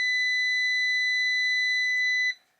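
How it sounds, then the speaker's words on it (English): A Kaiweets KM601s multimeter in continuity mode gives one steady, loud, high electronic tone that holds for about two seconds and then stops abruptly, with no voices. "you get that nice beeping sound"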